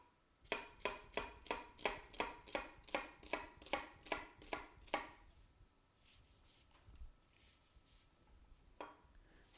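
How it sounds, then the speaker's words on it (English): A knife chops an onion finely on a board for a pearl barley risotto, about a dozen evenly spaced crisp chops in quick rhythm, close and clear, then quieter handling sounds. "So to get started, I'm just going to chop my onion."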